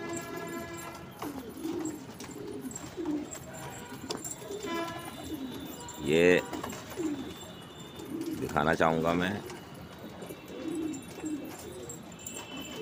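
About fifteen young pigeons coo and flutter while bathing together inside a tub on a pigeon farm, with soft repeated cooing throughout and a few louder wing flaps and splashes, heard under someone talking.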